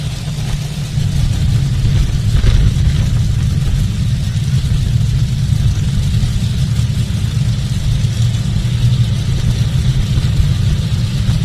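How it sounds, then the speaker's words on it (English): Four injected nitro Top Alcohol dragsters idle and rumble in the staging lanes at a drag strip, a steady loud low engine drone with no break throughout. "A quad of injected nitro machines set to roll forward."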